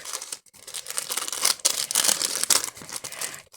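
Crinkly plastic is torn open in close, uneven rips and rustles, with short pauses between pulls and no talking.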